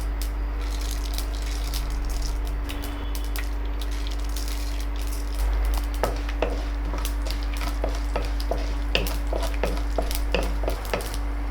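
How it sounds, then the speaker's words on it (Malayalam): Urad dal fries in oil with mustard seeds while a spoon stirs it: rapid crackling pops and rattling scrapes over a steady low hum, growing busier halfway through. "കടുക് പൊട്ടി വരുമ്പോൾ നമുക്ക് ഒരു 2 സ്പൂൺ ഉഴുന്ന് പരിപ്പ് ഇട്ട് കൊടുക്കാം"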